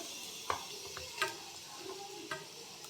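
Grated carrot fries with mixed vegetables in a quiet, soft sizzle, punctuated by a few scattered clicks and scrapes of stirring against the pan.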